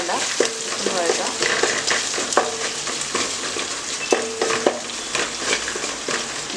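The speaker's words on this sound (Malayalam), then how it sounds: "ഇത് നന്നായിട്ടൊന്ന് വഴറ്റി കൊടുക്കാം." Ginger sautéing in a pan, a loud continuous sizzle with frequent metal spatula scrapes and stirs in an uneven rhythm throughout.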